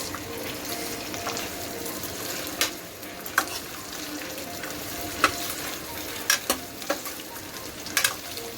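Potatoes and onions lightly frying in a pan, a soft steady sizzle with scattered spatula taps and scrapes as they are stirred, close and moderate in level, without any speech.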